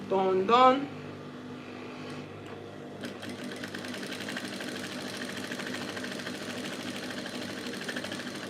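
Sewing machine stitching a gown with cut-together sleeves and pockets during a live sewing class, running steadily for most of the clip at moderate level after a brief burst of voice at the start.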